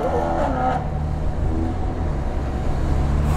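A BMW M3 E92 with its naturally aspirated S65 V8 rumbles through the exhaust, a steady deep engine drone that stays fairly loud and close, with a brief voice at the start.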